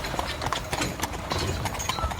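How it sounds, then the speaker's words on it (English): Hooves of four horses clip-clop at a brisk pace as a fast-moving carriage rolls up a road, a steady rhythmic clatter with broadband wheel rumble underneath, close and continuous. "the turning and churning of wheels from a carriage moving up the road is heard"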